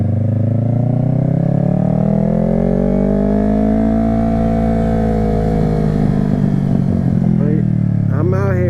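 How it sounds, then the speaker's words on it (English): A Yamaha R3 motorcycle revs and accelerates while being ridden, heard loud and close. The engine's whine climbs steadily in pitch, peaks, then eases back down, with constant wind rush throughout. "I'm always throttle happy."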